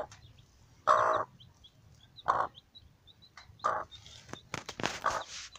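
A broody hen in a crate lined with cardboard and straw clucks in a few loud, separate calls, with faint chirping and rustling between them, close to the mic.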